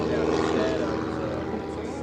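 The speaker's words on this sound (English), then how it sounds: "Next airplane is a J3 Cub." A J3 Cub seaplane flies past with a steady propeller drone and engine hum at moderate distance during a seaplane showcase at EAA AirVenture 2024, with a loudspeaker voice talking over it.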